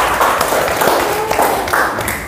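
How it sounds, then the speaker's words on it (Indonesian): A classroom of students applauding together, a short burst of dense clapping fairly close with some voices mixed in. "tepuk tangan dulu untuk kelas semua"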